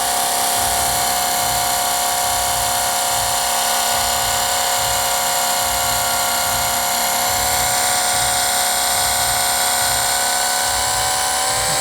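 A cordless car buffer polishing scratches out of a BMW Mini Cooper's paint runs as a steady high-pitched electric whine with a low pulsing hum, continuous and close for the whole stretch.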